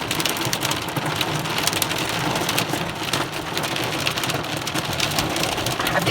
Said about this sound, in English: Here goes more hail.